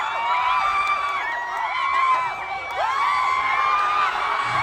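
Children cheer, whoop and shout in rising and falling bursts over a steady crowd murmur, celebrating a win by the Philippines; the voices are lively and fairly close.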